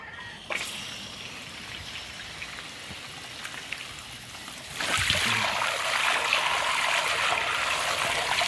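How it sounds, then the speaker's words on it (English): Water starts running from a tap partway through, a steady rushing flow that jumps in loudness and continues to the end, heard alone in a quiet outdoor setting. "I'm going to turn the water on."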